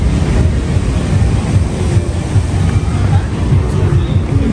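Rough storm sea pounds the shore at Yalta in Crimea, a loud, continuous roar of surf and wind buffeting the microphone, with no clear breaks.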